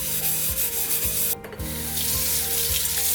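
Steady close-up scrubbing of a blackened, oxidized copper-bottom Revereware pan with Bar Keepers Friend cleanser, a continuous gritty rubbing with rhythmic strokes about every half second and a brief pause midway.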